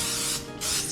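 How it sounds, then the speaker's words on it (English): Cooking spray hisses onto a cast iron skillet in two steady close bursts, broad and airy, with a brief break between them and no talk. "So we're gonna spray our cast iron"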